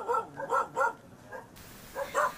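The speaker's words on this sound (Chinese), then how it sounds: "屠宰场内的40多只狗儿移交给动物收容所，其中包括一窝10天大的小狗" Dogs and puppies bark and yip at a slaughterhouse in Thai Nguyen, Vietnam, in a quick run of short, moderately close barks with a brief pause before a final pair.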